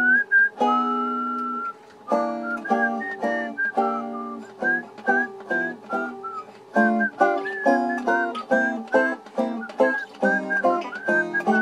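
A person whistles a bluegrass banjo tune, a clear solo melody of quick phrases and short pauses, close and loud with no accompaniment.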